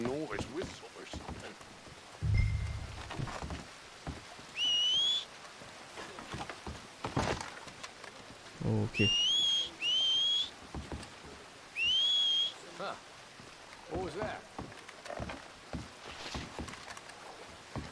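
Clear rising two-note whistles from Red Dead Redemption 2 on Guarma island, repeated several times at intervals, with scattered thumps and a voice speaking briefly between them.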